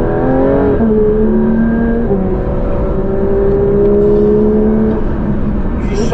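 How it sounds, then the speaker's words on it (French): A Porsche sports car engine heard from inside the closed cabin, holding a steady, loud drone with rising and falling pitch as it revs, continuous throughout. "Quel son moteur incroyable."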